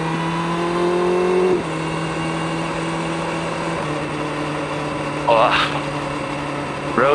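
A car drives a rough, bumpy road near Kleve, Germany, its engine a steady close drone that drops in pitch twice as it shifts, with a few brief high squeaks near the end.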